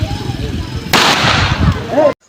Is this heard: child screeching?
no